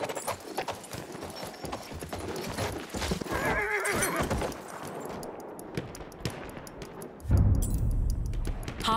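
A horse whinnies loudly amid clattering hooves and battle noise in Battlefield 1, with scattered gunfire and a heavy thump near the end.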